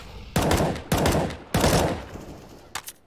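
Three loud, evenly spaced gunshots from a Counter-Strike match on the Inferno map, each a sharp crack with a decaying tail, followed by a couple of fainter, quicker shots at the end.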